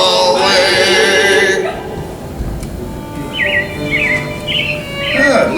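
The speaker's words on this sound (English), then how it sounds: "It looks like the Robins are getting ready to celebrate Valentine's Day today." Animatronic robins in an indoor theme-park attraction setting chirp and trill in short bursts, rising above a busy background of music and voices.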